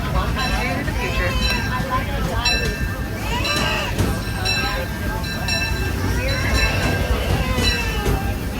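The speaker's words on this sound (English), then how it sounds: "please remain seated until the train comes to a full and complete stop" A Disneyland Railroad train rumbles and screeches along the tracks with metallic squeals as it comes to a stop, while people chatter in the background.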